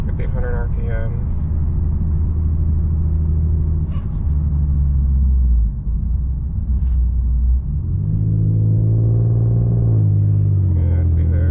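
An Infiniti Q50S with a Vibrant resonator exhaust, heard from inside the cabin: a steady low engine and exhaust drone that swells louder as revs rise near 2000 RPM, with a brief dip midway.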